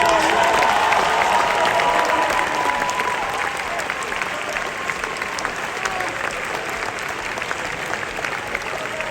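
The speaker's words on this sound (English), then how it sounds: "Give him a round of applause, Joshua." Sustained applause from a large graduation audience at a university commencement fills the clip, steady and loud with a faint crowd murmur beneath, tapering slightly toward the end.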